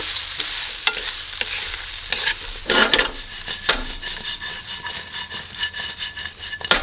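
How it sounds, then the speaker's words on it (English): Shrimp and seasoning get stirred in a hot pan, a steady sizzle running under repeated scraping strokes and light clinks of the utensil against the pan, close and fairly loud. "And then add in the seasoning, and then give this a really good mix."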